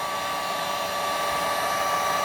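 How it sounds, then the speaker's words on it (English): A hair dryer runs steadily, a loud constant whirring hiss with a high whine, with no pauses or talk. "So this sounds like a hairdryer."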